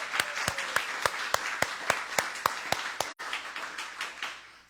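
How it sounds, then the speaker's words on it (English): A church congregation claps in an even, fairly quick rhythm of sharp, distinct hand claps, steady for several seconds with a brief break near the end before resuming. "let's give her a round of applause"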